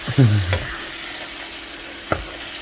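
A short bout of stirring in a sizzling pan: a low scrape at the start, soft frying hiss throughout, and a sharp utensil click near the end.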